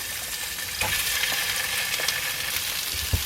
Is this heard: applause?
no